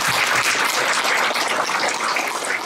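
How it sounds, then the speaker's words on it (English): A public community meeting audience gives a round of applause to welcome a speaker, loud dense clapping from a crowd that holds steady across the moment, no talking over it. "Give him a round of applause."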